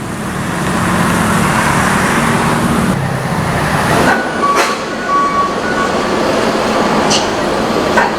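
Steady road traffic streams along a busy toll highway running from Jakarta toward Bandung. The roar of passing vehicles is broad and continuous, with a few brief higher tones near the end.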